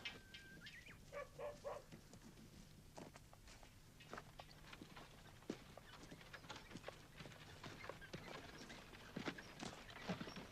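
Faint, irregular clip-clop of troopers' horses' hooves moving about, with scattered footsteps and what may be a dog barking, all quiet and somewhat distant.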